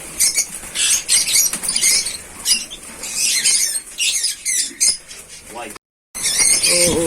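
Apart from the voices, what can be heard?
birds flying around in a farm aviary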